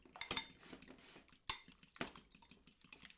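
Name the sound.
fork mixing wet bread ingredients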